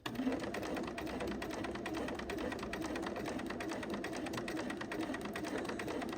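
Sewing machine stitching a fabric scrunchie, running as a continuous, even mechanical whir with a fast needle rhythm throughout, close and steady with no talk.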